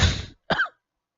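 A single close cough, a harsh burst followed by a shorter second hack, then silence.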